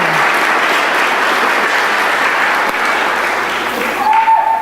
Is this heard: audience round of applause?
yes